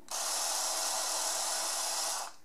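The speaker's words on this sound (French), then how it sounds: "on n'a pas écouté d'ailleurs le bruit des rasoirs" A Philips electric shaver runs alone with a steady, loud, close-up buzzing whir for about two seconds, switching on and off cleanly.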